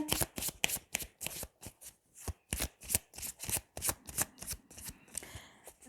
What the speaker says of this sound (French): je vais recouvrir certaines cartes. Je vais recouvrir la montagne.